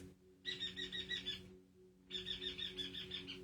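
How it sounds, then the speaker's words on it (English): A pet bird gives two bursts of warbling, chirpy calls separated by a short pause, fairly close over a steady low hum. "My bird is going through all of her noises that she does."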